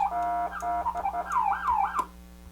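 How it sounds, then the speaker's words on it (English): A Federal Signal Touchmaster electronic siren on its RAD auxiliary setting, warbling and yelping in rapid sweeps, loud and close, cutting off abruptly near the end. "the RAD setting, you can play auxiliary sirens"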